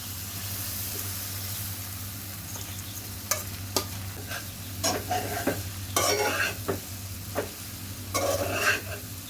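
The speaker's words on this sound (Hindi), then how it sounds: "अब इसमें मैं ये राइस जो बॉयल है ये ऐड करूँगी" Boiled rice stirred into sesame chilli chicken frying in a pan for garlic butter rice, a steady sizzle under a low hum with scattered scraping spoon strokes growing busier toward the end.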